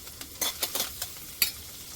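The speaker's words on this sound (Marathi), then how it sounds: "आता पनीर सॉते करायला परत मी सेम पॅनमध्ये बटर घालते." Paneer pieces sautéing in butter in a pan give a quiet, soft sizzle, with a few short bursts of stirring scrapes spread across the moment.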